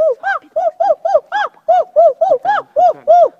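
A person on a Romanian talent show imitates a monkey with a rapid series of about a dozen loud, hooting whoops in a fast, even rhythm.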